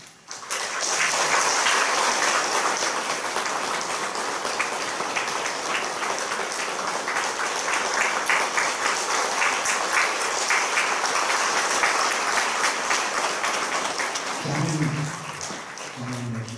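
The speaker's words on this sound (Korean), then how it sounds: "큰 박수로 여러분 기쁨을 가주시기 바랍니다." The congregation at Songpa Jeil Church, a Presbyterian church in Seoul, gives long, hearty applause during an ordination thanksgiving service, a full, steady roar of clapping for about fourteen seconds before it fades and a voice begins speaking.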